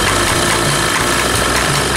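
A two-stroke generator engine idles at low throttle, giving a loud, steady, buzzing drone with a slightly uneven pulse, close and continuous, with no voices.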